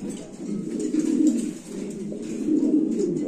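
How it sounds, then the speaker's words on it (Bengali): A pair of large Lahori pigeons at a pigeon farm, cooing close by in soft, repeated throaty phrases that rise and fall in two main swells. "এখানে আছে এক পেয়ার লাহোরি কবুতর"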